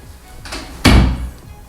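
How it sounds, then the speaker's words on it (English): A door fitted with an Efoxcity waterproof twin draft stopper is opened and then closed: a soft muffled bump followed by a louder, fuller thud with a short decay, close by. "then you guys can just close and open the door like that"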